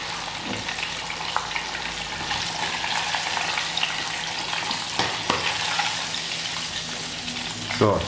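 Chicken pieces deep-frying in hot oil for a fried chicken wrap, giving a dense, steady crackling sizzle throughout with a few sharper pops and clinks near the end, up close.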